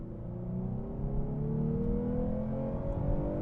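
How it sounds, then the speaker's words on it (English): A 2024 Lexus IS 350 F Sport's old-school V6 engine drones steadily under load, its pitch climbing slowly as the car accelerates, heard from inside without speech. "that sound too coming from the V6"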